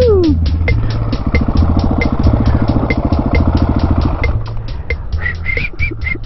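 KTM 701 single-cylinder motorcycle engine revving hard through a wheelie, a loud steady throttle drone with a rapid pulsing beat that drops off near the end, followed by wind buffeting and faint whoops.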